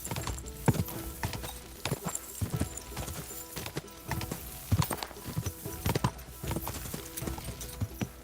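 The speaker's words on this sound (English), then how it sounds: "Easy, good horse." Horse hooves clip-clopping in Kingdom Come Deliverance II, a steady rhythmic series of close, distinct hoof strikes, moderately loud and continuing throughout.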